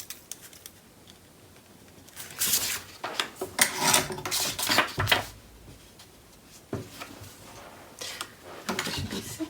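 Paper being trimmed for a scrapbook mini album page, soft at first, then scraping, rasping strokes come in bursts through the middle and again briefly near the end.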